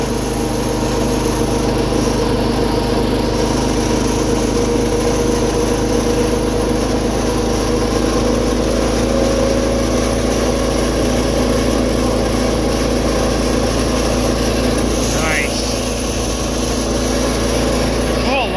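Repaired 210's small engine runs at a steady loud drone, close by and continuous, with a brief rising pitch sweep partway through and faint talk beneath.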